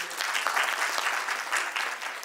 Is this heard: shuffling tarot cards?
no